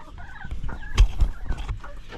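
Egg-laying hens clucking close by in a short burst of overlapping clucks and cackles, no talk over them.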